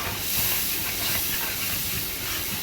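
Turmeric, chilli and salt frying with fish in a pan, a steady close hiss of hot oil with soft crackling throughout.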